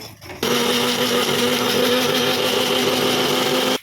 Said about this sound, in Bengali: পোস্ত দেবো, সামান্য একটু জল দেবো বাটা হওয়ার জন্য। এটা এদিকে আস্তে আস্তে হোক, আমি এটা বেটে নিচ্ছি।